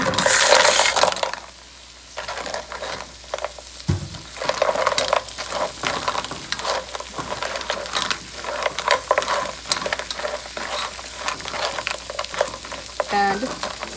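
Mussels and Manila clams are tipped into a pot of melted butter and translucent shallots, shells clattering and clinking as they land, followed by steady sizzling and stirring close by.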